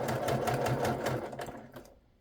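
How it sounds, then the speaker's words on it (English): A sewing machine stitches a quick seam for quilting, giving a close, rapid run of even mechanical pulses that stops after about two seconds. "So I'm just going to sew a quick seam"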